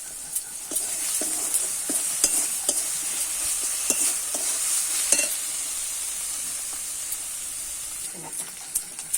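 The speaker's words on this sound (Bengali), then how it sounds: "মশলা আমার মশলা ভাজা হয়ে গেছে।" Spices frying in a pan make a constant bright hiss close by, punctuated by regular sharp ticks and scrapes from stirring, steady in level from start to finish.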